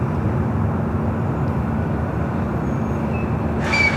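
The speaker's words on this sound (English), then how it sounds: "You're looking at Delta Airlines Flight 515 heading to Atlanta." A Delta Airlines Boeing 767-300ER airliner at LAX gives off a steady, fairly loud low jet rumble that holds evenly throughout, with a brief higher whine near the end.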